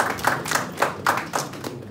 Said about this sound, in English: So a round of applause for Heartman.